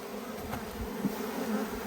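Honey bees buzz at an open hive during a frame inspection, a soft, steady drone with no talk.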